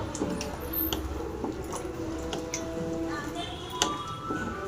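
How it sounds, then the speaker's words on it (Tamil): A spoon stirs a tamarind kara kuzhambu mixture with knol-khol and sprouted horse gram in a pressure-cooker pot, making soft wet squishes and light ticks against the metal over a steady background hiss. "நல்லா கலந்து விடுங்க"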